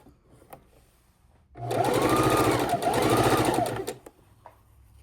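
A sewing machine stitches fabric for a table runner in one steady burst of rapid mechanical stitching for about two seconds, loud and close, then stops.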